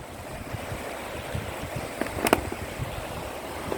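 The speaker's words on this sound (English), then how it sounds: "Listen to the beautiful sound of the river," Rushing water from river rapids at a weir on the River Clyde, a steady broadband wash heard outdoors with a few faint high chirps midway.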